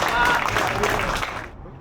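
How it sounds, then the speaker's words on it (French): An audience applauds at a street fishing competition prize announcement, a short burst of crowd clapping under voices that tapers off into near silence. "si on peut l'applaudir"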